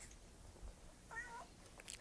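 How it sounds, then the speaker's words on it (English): A pet cat gives a short, faint meow indoors, a single soft call amid quiet room noise. "let me say hi to my cat. Benny."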